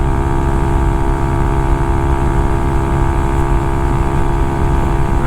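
Honda Grom motorcycle engine held wide open in fourth gear on a slight uphill, a loud, steady, buzzing drone at constant high revs heard close up without pause.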